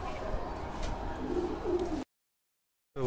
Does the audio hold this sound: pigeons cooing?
yes